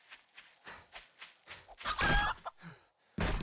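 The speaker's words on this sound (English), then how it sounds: "Alright, another chicken. Can we get him?" A chicken in the video game 7 Days to Die gives several short, scattered clucks amid soft footsteps, ending in a louder burst of squawking.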